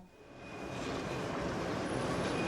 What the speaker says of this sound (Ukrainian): П'ятий трамвай ходить нечасто раз на годину.